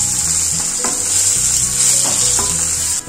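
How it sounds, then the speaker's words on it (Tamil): Onion, curry leaves and asafoetida fry in a pan with a loud, constant close-up sizzle, while a spatula stirs and scrapes now and then. "கருவேப்பிலை, பெருங்காயம், ஒரு வெங்காயம், இது எல்லாத்தையும் நல்லா வதக்கிக்கலாம்"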